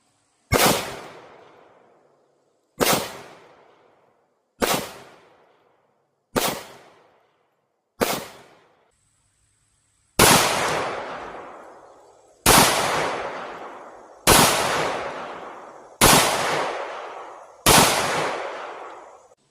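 Smith & Wesson M&P 45 Shield pistol firing .45 rounds at 15 feet on a range: five loud, evenly spaced shots, then five more in a quicker, louder rapid-fire string, each with a sharp crack and short decay.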